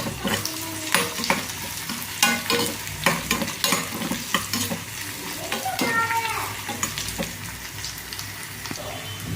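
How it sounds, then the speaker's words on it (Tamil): Chopped onion sautéing and being stirred in a pan for a tamarind greens curry, with a steady close sizzle, repeated scraping stir strokes and occasional clinks throughout. "வெங்காயத்தை நல்லா வதக்கலாம்."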